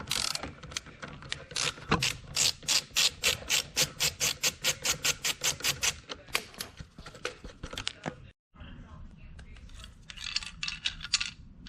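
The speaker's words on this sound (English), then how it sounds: "this one takes a 17 mil for the bolt to come off" A ratchet on a 17 mm socket backs out the seatbelt receptacle bolt in a Porsche 991.1 GT3, a fast, even run of close, crisp clicks over several seconds, then a brief gap and a few scattered clicks.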